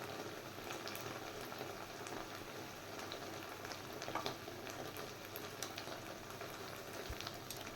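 Makhana and pumpkin paste frying with salt and asafoetida in a pan, a soft continuous bubbling sizzle with scattered light pops, faint and steady throughout.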